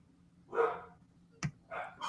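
Two pet dogs named Apache and Georgie bark faintly in the background of a quiet room, with a soft woof, a sharp single bark, then another bark a moment later.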